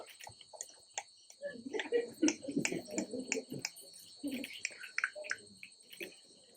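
Finger snapping performed during a Burrakatha folk storytelling act, a series of sharp, crisp snaps in quick irregular succession, heard close alongside faint chirping and a steady high tone in the background.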